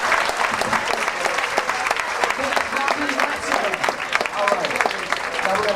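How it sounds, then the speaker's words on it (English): An audience breaks into loud, dense applause at an orientation program, many hands clapping steadily and close for several seconds with a light crowd murmur underneath. "Give yourselves a round of applause."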